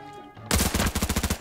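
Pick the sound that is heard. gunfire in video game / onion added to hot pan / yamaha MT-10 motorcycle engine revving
gunfire in video game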